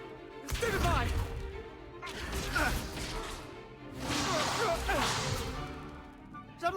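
Spell blasts in Hogwarts Legacy combat, including Stupefy: three forceful whooshing bursts with sharp crackling attacks, each swelling and fading, spaced about one and a half seconds apart.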